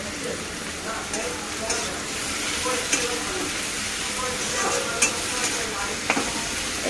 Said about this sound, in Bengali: রসুনটা একটু নেড়ে নেওয়াই ভালো